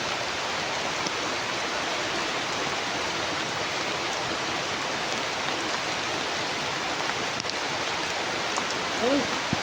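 Heavy rain pours down outdoors in a steady, dense broadband wash that stays loud and even throughout, with no pauses and only faint hints of other sounds near the end.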